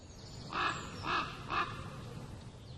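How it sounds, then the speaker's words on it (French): A common raven gives three harsh, evenly spaced caws in quick succession, fairly close and clear against a soft outdoor background. "Le grand corbeau. Ce champion de voltige aérienne peuple tout l'hémisphère nord."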